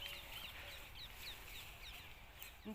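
Chicken or rooster clucking faintly behind a house, soft repeated short calls over a quiet outdoor background.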